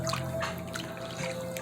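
Spoonful of honey poured into aloe vera ginger juice, giving soft, close liquid drips and a light trickle with faint clinks, alone and quiet.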